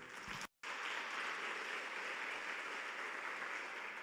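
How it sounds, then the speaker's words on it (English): A crowd applauding steadily, a continuous wash of clapping from many hands, fairly faint, after a brief cut near the start. "a big round of applause for that lovely reflection of the past 2 days."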